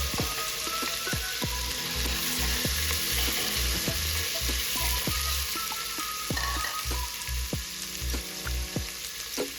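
Onion sautés in oil in a pan while cooking lechon pork belly with tomatoes, a steady close sizzle punctuated by repeated clanking strokes of a utensil stirring against the pan.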